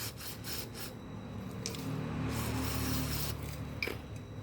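Cleaning liquid is sprayed onto the connector of a Nintendo Entertainment System NES-004 controller, a steady close hiss of spray with faint rubbing and handling noises.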